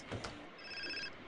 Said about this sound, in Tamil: பார்த்தீங்கன்னா நம்மளுக்கு ஃபோன் அடிக்கி.